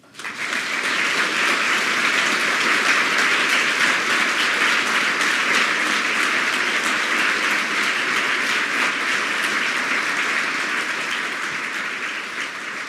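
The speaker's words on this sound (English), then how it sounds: "I don't think that applause could last long enough" A large crowd applauds at a university State of the Campus address, with sustained, dense clapping that stays loud and even throughout, tapering slightly near the end.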